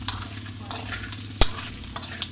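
Onion, garlic and black pepper frying in a pan for adobo, a steady close sizzle with stirring clinks and one sharp scrape of a utensil against the pan.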